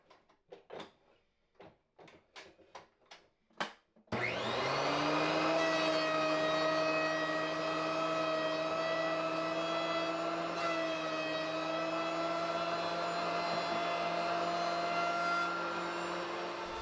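Several light wooden knocks and clatters come first, then a wood planer surfacing boards cut for a build starts up with a loud, steady, high whine that runs on without a break.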